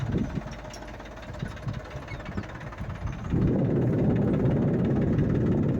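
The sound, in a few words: tractor engine running while sowing a field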